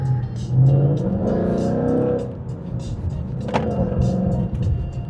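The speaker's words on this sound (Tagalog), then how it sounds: "Ngayon, with a V8 sports car." A wide-body Ford GT Mustang V8 sports car rumbles steadily from inside the cabin, its low engine drone swelling slightly as it pulls along a road, with faint whirring and ticking over the top.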